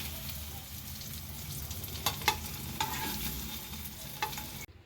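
Paneer frying in oil in a pan gives a steady, close sizzle with a few sharp crackles and pops scattered through it, and no talking.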